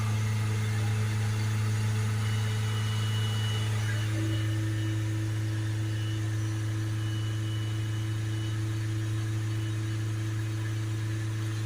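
The diesel engine of a Vauxhall Vivaro van with a blocked particulate filter is held at 3000 RPM, a steady, dense drone with a strong low hum that stays level throughout, with no talk.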